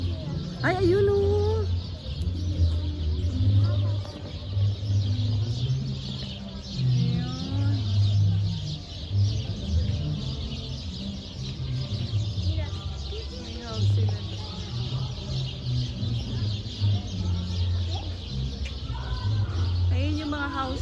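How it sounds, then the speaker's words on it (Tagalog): Birds and chickens in an aviary at a family day outing in Aguascalientes, Mexico, chirping and clucking in scattered bursts beneath steady crowd chatter and nearby voices. "Asan yung mga ibon naririnig ko eh?"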